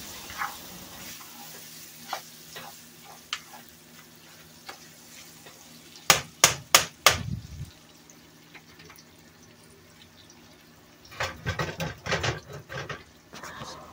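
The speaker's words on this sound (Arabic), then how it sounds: "وهبدأ احرك الفراخ بتاعتي واحرك فيها التوابل علشان تتشوح كمان في التوابل بتاعتي" Chicken pieces stirred with spices in a frying pan, a spoon scraping and clattering in bursts over a steady sizzle, with a loud cluster of strokes midway and another run near the end.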